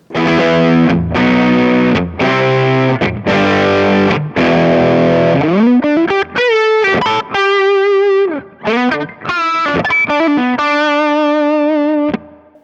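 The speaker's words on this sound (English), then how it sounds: "which should be the MXR Distortion Plus, I think" An electric guitar through an MXR Distortion Plus pedal on a Kemper Profiling Amp plays chugging power chords, then sustained single-note lead phrases, loud and saturated with no talking.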